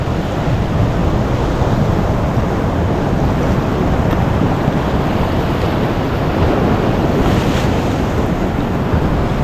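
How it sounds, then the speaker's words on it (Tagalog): Strong ocean surf pounds a shoreline under a stiff northeast monsoon wind after a typhoon, a steady, loud, unbroken wash of breaking waves with wind buffeting the microphone throughout. "Kaya medyo malakas na yun yung alon dun."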